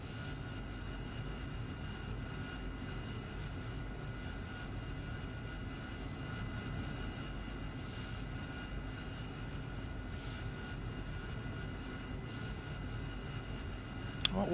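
Steady engine roar of an AV-8B Harrier jet taxiing slowly over an unprepared surface in the combat flight simulator DCS World, a constant broadband hum with a whining tone, heard alone with no talk.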